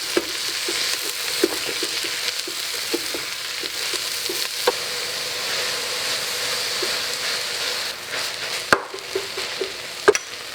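Chopped leek frying in a pan, a continuous hissing sizzle like light rain with a quick run of stirring taps early on and a few sharper knocks near the end, close and fairly loud.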